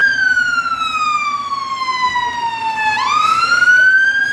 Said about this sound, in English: the siren was off